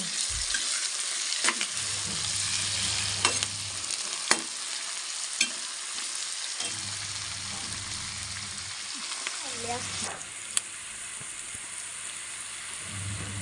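Steady sizzling of hot oil as pumpkin curry is tempered in a pan, a continuous crackle with occasional sharper pops and a low hum underneath.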